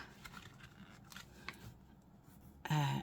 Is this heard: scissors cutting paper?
yes